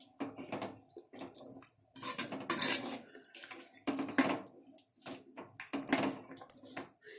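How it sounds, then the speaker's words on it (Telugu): Chole curry being stirred and mixed in a pot, giving intermittent metallic scrapes and clatters of a spoon against the pot in irregular bursts, close and moderately loud, with no talking. "ఫైవ్ మినిట్స్ మిక్స్ చేసుకుందాం."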